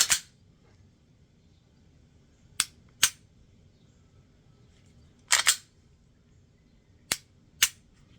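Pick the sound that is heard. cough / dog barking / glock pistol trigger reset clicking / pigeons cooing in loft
glock pistol trigger reset clicking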